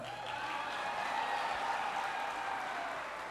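Audience at a graduation celebration for an African youth association claps steadily, a moderate, even round of applause across the whole stretch with no talk over it.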